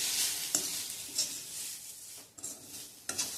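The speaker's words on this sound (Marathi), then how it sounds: "ह्यामध्ये मी 1 वाटी एवढा नारळाचा चव घालणार आहे, म्हणजे जेवढा सुरण असेल तेवढाच नारळाचा चव घालायचा आणि पुन्हा छान परतून घ्यायचं." Grated coconut and suran (elephant yam) are sautéed in a pan with a soft sizzle, broken by several scraping stir strokes of a spoon at irregular intervals.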